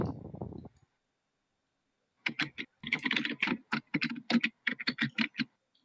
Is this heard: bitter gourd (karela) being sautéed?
no